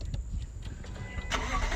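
A Lexus LC500 Convertible's engine fires up close by, a low rumbling crank that catches and swells into a deep, loud burst as it starts.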